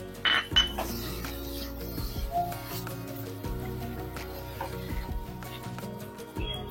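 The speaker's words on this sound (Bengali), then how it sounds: "বাটিটা ধুয়ে একটু জল দিয়ে দিচ্ছি।" A bowl being rinsed in a kitchen while a Katla fish curry is cooked, heard as repeated close clinks and knocks of dishes and utensils with a faint trickle of water in between.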